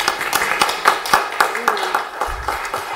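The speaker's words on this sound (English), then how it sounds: "Give her a big applause." Small audience clapping to welcome a speaker at an innovation cafe event, a sparse, uneven handful of claps close by, with talk over it.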